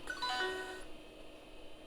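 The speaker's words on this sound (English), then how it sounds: "See, we heard chimes, right?" Short chime tones ring from the tiny PC speaker of a Leading Edge WinPro 486 computer, a quick bright cluster of notes over the first half-second that trails off into a faint hiss.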